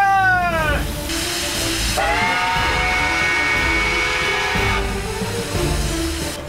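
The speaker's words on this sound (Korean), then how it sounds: "요란한 소리를 내며" A loud steam whistle shrieks in long blasts over a constant hiss of venting steam and the low rumble of a steam locomotive close by, departing on a snowy Siberian line near Lake Baikal.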